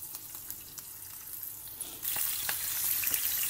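Whiting steaks fry in a pan with a steady close crackling sizzle that grows louder and denser partway through, with scattered pops and light spatter and no talk.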